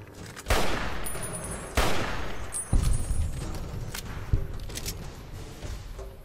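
Gunfire in Fallout: New Vegas comes as four or five separate loud shots spaced about a second apart, each a sharp crack with a ringing tail, over a low background rumble.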